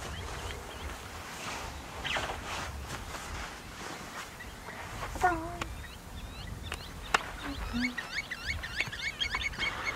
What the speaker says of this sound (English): Let me know if you can hear the bird life outside.